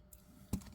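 Jewelry wire snipped off with cutters during wire wrapping of a bead necklace: a single sharp, faint click near the end of an otherwise quiet moment.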